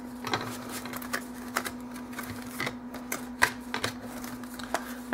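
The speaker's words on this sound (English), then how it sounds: "So what we're going to do is punch these out." Repeated sharp clicks and clacks from a paper punch cutting shapes out of thick chipboard for a mini Christmas album, irregularly spaced taps close by over a steady low hum, with no talking.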